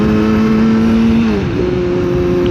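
A nearby car accelerates past on the road, its engine note steady and then dropping in pitch as it goes by, loud and close with no talk.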